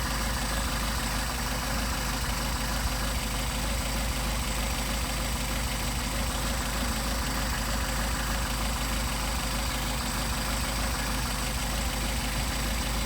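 A Mercedes 190SL engine fitted with Solex carburetors idles low and steady, a continuous close rumble with a faint uneven pulse running throughout, no voices over it.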